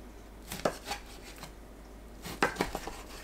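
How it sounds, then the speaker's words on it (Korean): A knife cutting pork belly into 3-4 cm pieces on a board, two clusters of crisp chopping knocks separated by a quiet pause, no speech. "3-4cm 간격으로 썰어주세요"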